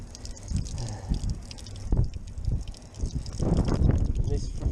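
Water trickles and gurgles into bottles at an outdoor spot along a horseback trail ride between Daylesford and Ballarat, an uneven splashing flow that swells toward the end, with voices talking over it.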